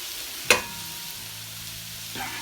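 Onions sizzle quietly in a pan while cooking a chicken korma, with a sharp scrape of stirring near the start and another softer stir near the end.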